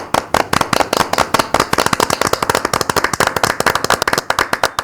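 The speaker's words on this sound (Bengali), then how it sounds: "সভায় তুমুল করতালি হয়" Loud, dense applause from a crowd at a meeting: a continuous rapid patter of many hands clapping, close and steady throughout with no speech.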